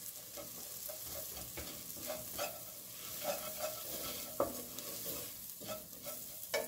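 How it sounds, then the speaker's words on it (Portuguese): Onion sautéing in a pan with colorau for a zucchini pasta sauce, a soft, even sizzle broken by repeated scraping stirs of a spoon, heard close but quiet, with no talking. "Ainda tá refogando a cebola"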